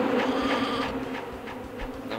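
Bees buzz in Sheep Dog 'n' Wolf, a steady droning hum that stays loud and close throughout with slight wavering swells and no talk.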